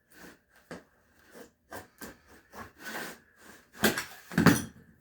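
Blade cutting through wood veneer on a door along a marked line, heard as a series of short, close scraping and rasping strokes with brief pauses, growing louder toward the end.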